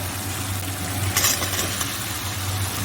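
Meat cooking in spices and oil in a pan, a steady close sizzle and crackle with a brief louder burst of spattering midway, set over a low continuous hum.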